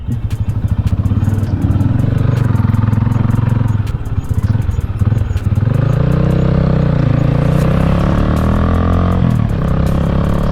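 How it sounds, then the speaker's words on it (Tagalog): A Classic 250 motorcycle with a carburetor being tuned runs loud and close on a test ride, its engine droning with a steady rapid thump and rising in pitch as it accelerates partway through. "lalabas tayo para test yung aking bike"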